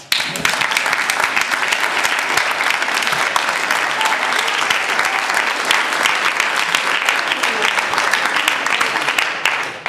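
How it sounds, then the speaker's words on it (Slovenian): Sustained, dense applause from a large audience, steady and loud for the full stretch with no pauses. "se naj dobite pa aplavz od nas"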